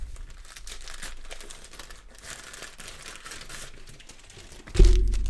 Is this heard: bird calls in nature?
no